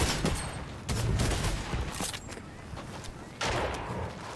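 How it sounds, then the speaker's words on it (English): Heavy shotgun fired in the video game Fortnite, with several loud booming blasts spread across the few seconds and rumbling tails between them, and no talk. "Heavy shotgun, yes sir."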